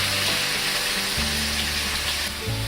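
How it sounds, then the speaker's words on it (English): Chicken breast pieces hit a pan of hot olive oil, giving a loud, continuous close sizzle with some low clattering as the pieces settle, and no one speaking. "I have 2 chicken breasts here that I cut up into pieces. I'm going to add that to our oil."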